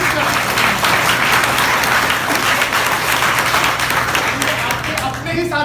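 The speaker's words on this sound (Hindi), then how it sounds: "अरे ताली बजाओ इनके लिए" Students in a classroom applauding, loud sustained clapping from many hands at a steady level that thins out near the end as voices come in.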